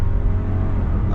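A 2021 Lexus GX460 in regular drive accelerates at full throttle, its engine a steady, loud, close low drone with no talking.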